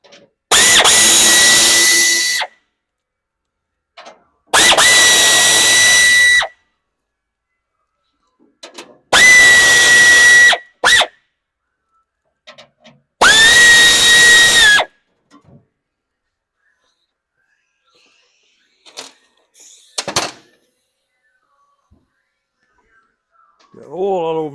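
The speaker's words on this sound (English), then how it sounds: "I oiled that air ratchet before I started today, and it's blowing it out." An air ratchet removing bolts on a 1957 Chevy Sedan Delivery, four loud sustained bursts of whirring, each about two seconds long, close up, with short pauses and small clinks from handling tools in between.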